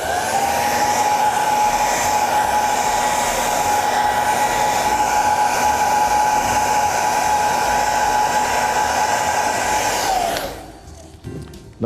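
A hair dryer dries a repaired hole in leather, blowing a loud, steady whirring roar for about ten seconds before it is switched off and spins down.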